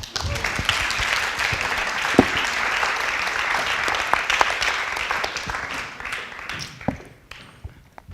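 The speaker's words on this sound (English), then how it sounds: "Please applause." Audience applause in a theatre workshop at an acting festival in Oslo, a dense steady patter of many hands with a few sharper claps standing out, tapering off near the end.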